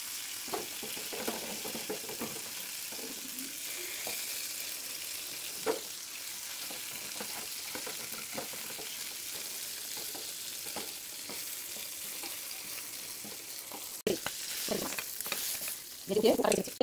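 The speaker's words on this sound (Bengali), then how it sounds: "একদম মাছটা ভালো করে মচমচ করে ভেজে নেব।" Taki fish fries crisp in oil in a pan, with a steady close sizzle and crackle running throughout, a few louder spits and pops, and a sharper clatter of stirring near the end.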